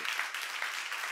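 A church congregation at a seminar claps together in a brief, even burst of applause that fills the whole moment without a break.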